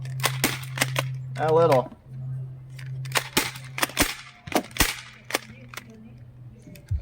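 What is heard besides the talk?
Nerf blaster firing darts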